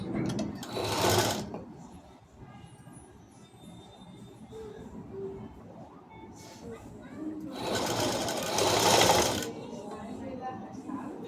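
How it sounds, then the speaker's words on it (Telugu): A sewing machine runs in two loud bursts, stitching a lining along the neck edge of a long frock, with quieter handling and faint voice in between. "పైనుంచి ఒక కుట్టు వేసుకోవాలి ఎడ్జికి, నెక్ పైన."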